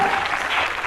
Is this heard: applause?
yes